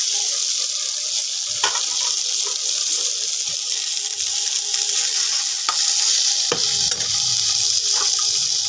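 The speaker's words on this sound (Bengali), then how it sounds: "সেদ্ধ করা আলুগুলো দিয়ে দেবো।" Boiled potatoes go into frying cabbage charchari in a pan: a continuous bright sizzle, broken by a few clunks and scrapes of stirring, close and fairly loud, with no talk.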